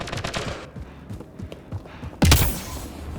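Gunfire in the sci-fi shooter Mass Effect: Andromeda: a dense fusillade of rapid shots early on, a quieter stretch of scattered thuds, then one loud, close burst near the end.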